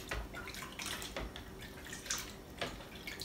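Mead must being shaken hard in a container to work oxygen into it, giving a steady wet sloshing and splashing with repeated surges, close and moderately loud, with no talking.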